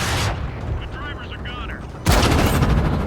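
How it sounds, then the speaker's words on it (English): Heavy tank gun shot in the World of Tanks game, a sudden loud blast near the end over steady engine and battle rumble, with a voice talking underneath. "That shot against me there though"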